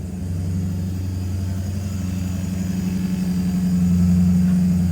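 A BMW M3 with the S54 engine idles nearby, a steady low burbling hum that holds even throughout with no voices.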